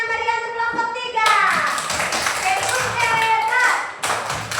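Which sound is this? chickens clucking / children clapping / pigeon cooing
children clapping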